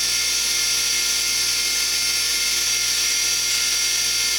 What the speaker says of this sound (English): I can hold this tool with the stone cutting towards the chisel.